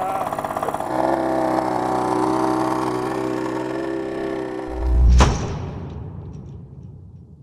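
A Honda Gyro S three-wheel scooter's small engine runs with a steady, buzzing hum, then a loud thump comes and the sound dies away into quiet.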